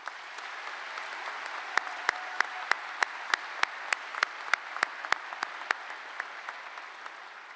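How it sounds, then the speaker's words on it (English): Steady, moderately loud applause from a graduation commencement audience, a sustained wash of clapping with a few sharper individual claps cutting through at regular intervals, no talking over it. "Let's give them a round of applause."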